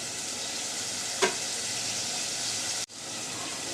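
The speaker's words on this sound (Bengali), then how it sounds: "এই তো মশলা কষানো হয়ে গেছে" Whole garam masala spices sizzle steadily in hot oil in a pan for dal bhuna, with a spoon stirring them. There is one brief scrape partway through and a sharp knock near the end.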